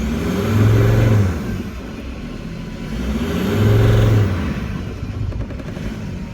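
A Mercedes Sprinter van engine with a turbo underboost fault revs twice during a turbo actuator test, each rev swelling and falling back to a rough idle, close and loud with no talk.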